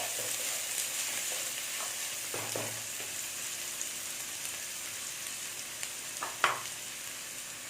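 Chopped onions sautéing in a pan sizzle steadily with soft crackling, punctuated by a few brief stirring scrapes and one sharper knock, close and without talk.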